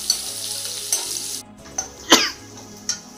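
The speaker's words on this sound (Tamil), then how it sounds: "ஸோ இந்த சின்ன வெங்காயம் நல்லா பொன்னிறமாக ஆகிற வரைக்கும் நல்லா வதக்கிக்கலாம்." Shallots sautéing in hot oil in a pan until golden, with a steady close sizzle broken by a few sharp stirring scrapes and clinks of a spoon against the pan.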